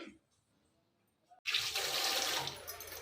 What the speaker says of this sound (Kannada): ಅಕ್ಕಿನ ನಾನು ತೊಳ್ಕೊತಾ ಇದ್ದೀನಿ ಅಂದರೆ ಒಂದೆರಡು ಸಲ ತೊಳ್ಕೊಳ್ಳೋದ್ರಿಂದ ಅಕ್ಕಿ ಚೆನ್ನಾಗಿ ಕ್ಲೀನ್ ಆಗುತ್ತಲ್ಲ